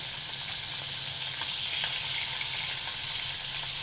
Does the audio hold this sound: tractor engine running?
no